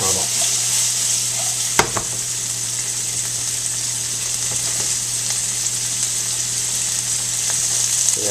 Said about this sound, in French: c'est bon de faire sauter les oignons